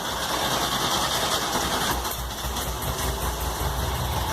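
Volkswagen Beetle (Fusca) engine running steadily and loudly at close range, a dense continuous rumble with a faint rhythmic knock and no speech over it.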